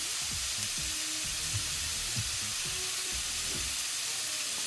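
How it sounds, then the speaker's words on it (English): Creamed garlic sautés in a hot pan for pork fajitas, giving a steady, close sizzle with small pops and stirring scrapes throughout. "I'm going to add in my garlic that I creamed. Let that saute off."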